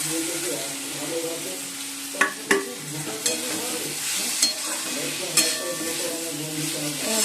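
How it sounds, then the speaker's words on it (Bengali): Fried potatoes are stirred into a spiced masala in a pan, a steady sizzle running throughout with sharp spatula scrapes and knocks against the pan at intervals. "মশলা কষানো হয়ে গেছে এবার আলুগুলো দিচ্ছি ভাজা আলুগুলো"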